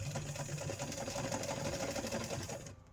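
Sewing machine running steadily through Velcro for a camp chair caddy, a loud continuous mechanical whir with rapid stitching pulses that stops abruptly near the end.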